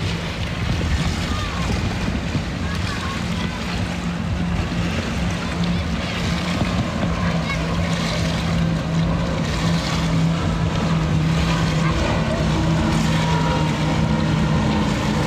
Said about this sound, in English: Yeah, it's a boat.